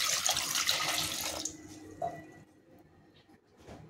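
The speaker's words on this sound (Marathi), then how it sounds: "कुकर मध्ये घेऊन त्यामध्ये पाणी टाकून घेणार आहे" Water pours steadily into a pressure cooker holding peeled jackfruit for about a second and a half, a close, bright splashing rush that then stops, leaving faint kitchen clatter and a small knock.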